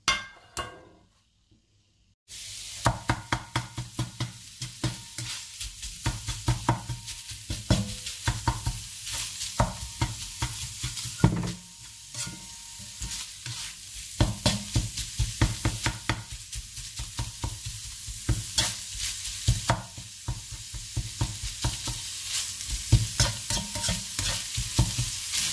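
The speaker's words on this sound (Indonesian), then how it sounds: "Aku goreng dulu ininya ya, ayam" Chicken meat sizzles loudly in hot oil while a utensil scrapes and clanks against the pan in a steady rhythm, after a short quiet start.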